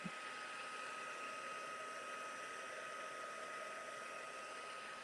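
A heat gun blowing steadily while it heat-sets embossing powder, a continuous airy whoosh with a constant whine, held at an even level for the whole stretch.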